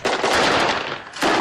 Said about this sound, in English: That was YPG shooting, but now ISIS is firing back.